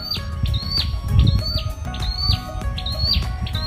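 Birds chirp in repeated bright tweets over a low background rumble at the Sa Đéc flower village during Tết, their short calls recurring every half second or so, fairly near.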